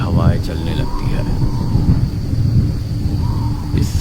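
A thunder and storm sound effect rolls in with deep, heavy rumbling under a storyteller's voice, with a brief crackle near the start and a sharp burst at the end.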